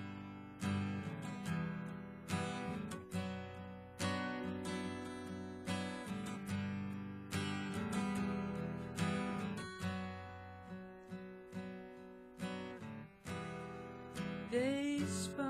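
An acoustic guitar plays the link, coda and outro of a song, a flowing run of picked and strummed chords with a steady pulse. It ends in a quick sliding flourish, with no voice heard.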